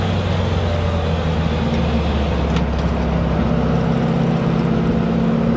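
A restored 1956 Porsche 356A coupe cruises along, its engine a steady low drone with road and wind rumble filling the cabin, loud and constant throughout, with no voices.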